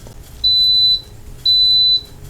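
An Instant Pot pressure cooker gives two long, steady high-pitched electronic beeps, each about half a second, separated by a short pause, loud and close over a low background hum.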